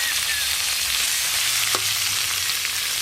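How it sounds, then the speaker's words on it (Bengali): Capsicum, onion and tomato fry lightly in a pan over a clay stove, giving a steady, close, dense sizzle throughout with one brief clink partway through and no talking. "ক্যাপসিকাম, পেঁয়াজ, টমেটো, এই সব সবজি একটু হালকা করে ভেজে নেব"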